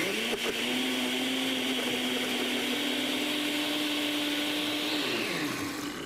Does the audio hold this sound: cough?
no